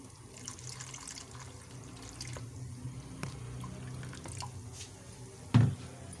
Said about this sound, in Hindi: इसको मिक्स करेंगे और इसके साथ ही हम थोड़ा सा पानी इसमें ऐड कर देंगे।